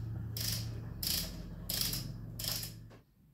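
Wrench working the caliper bolts on a Suzuki DR650 motorcycle front brake, torqued to 29 newton meters: four bursts of ratcheting clicks over a steady low mechanical hum, close and fairly loud, then a sudden stop.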